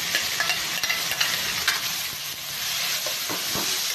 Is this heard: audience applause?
no